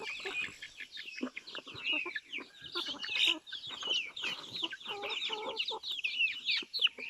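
Chickens in a coop cluck and squawk continuously, several birds at once at close range, with overlapping bursts and no talk.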